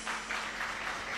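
A church congregation breaks into warm, sustained applause during a worship service, a dense steady clapping from many hands filling the room.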